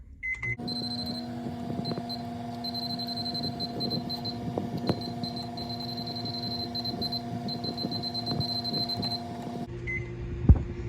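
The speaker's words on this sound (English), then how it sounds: "put it in the microwave" A microwave oven heating pizza hums steadily with a mechanical drone while rapid high beeps chirp repeatedly in bursts, ending with a brief beep after the hum stops.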